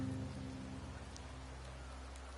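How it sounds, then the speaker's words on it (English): Steady rain falling in the video game Wuthering Waves, an even, continuous hiss of drops that holds level throughout with no other sounds on top. "The rains in Septimont never seem eager to leave this season."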